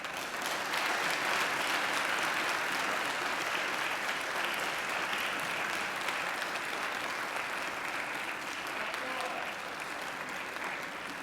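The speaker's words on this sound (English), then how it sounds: "And now I invite you to give them a mighty round of applause." Graduates at a university graduation ceremony applaud their families and friends, a dense, steady clapping from a large hall crowd that fills the whole stretch at even loudness.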